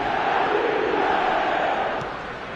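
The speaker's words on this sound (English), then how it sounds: "the crowd level has gone up a notch or 10" A stadium crowd in the eFootball video game roars in a steady, dense wash of noise that holds strongly, then eases slightly toward the end.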